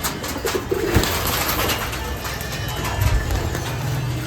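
Soft cooing of Giribaz pigeons close by, repeated low murmuring calls over a noisy outdoor background with faint distant sounds.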